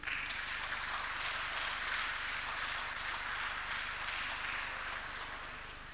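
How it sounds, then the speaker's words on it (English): Steady, moderately faint applause from an audience at a workshop on anti-money laundering, a continuous wash of many hands clapping that slowly tapers toward the end. "That applause is not good enough"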